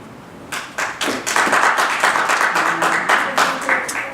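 An audience at a school board forum breaks into applause: a dense crowd of hand claps that builds quickly and carries on steadily for several seconds in an indoor hall.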